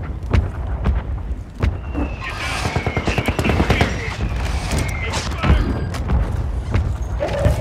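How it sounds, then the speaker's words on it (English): A friendly mortar strike in the Call of Duty video game: a dense, continuous barrage of loud booms, thuds and rapid gunfire bursts across the whole stretch, with a voice speaking over the chaos. "Friendly mortar strike inbound."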